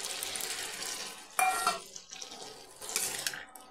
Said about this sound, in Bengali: আর দিচ্ছি এই যে ছোলা সেদ্ধ করে রাখা ছিল ওই জলটা সেদ্ধ